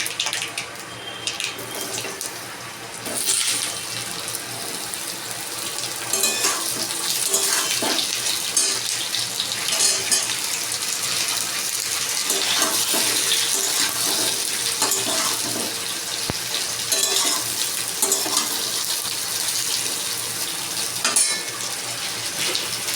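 Vegetables for shukto tipped into hot oil tempered with bay leaf, mustard seeds and radhuni, giving a loud, continuous hissing sizzle that swells and holds steady with scattered crackles.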